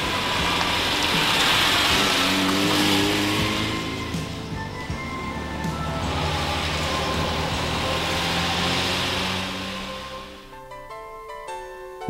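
The V12 engine of a Ferrari 365GTB4 Daytona, rated at 352 horsepower, gives a loud, sustained harmonic drone that rises and falls in pitch, with music coming in near the end.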